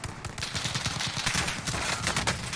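Rapid gunfire from the Warzone shooter video game, dense overlapping bursts of shots rattling continuously and loudly throughout without a break.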